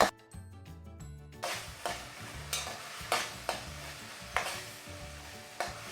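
Okra sautéed with turmeric and salt in a pan, a steady sizzle with repeated scraping stirs at a regular rhythm, preceded by a brief musical passage, no talking.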